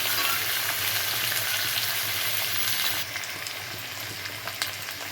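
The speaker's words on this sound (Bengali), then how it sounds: "এটাকে খুব ভালো করে ভেজে নিতে হবে, যাতে বেগুনগুলো সব সুন্দর করে ভাজা হয়ে যায়।" Eggplant fries in a pan with a loud, continuous sizzle close by that eases slightly partway through, with no talking.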